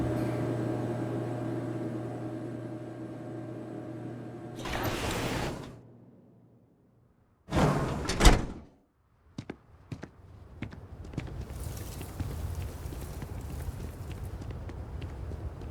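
A door is opened, with mechanical clunks and a rattling handle, then a short burst of noise. A quiet pause follows, then several sharp clicks and taps over a low hum in the background.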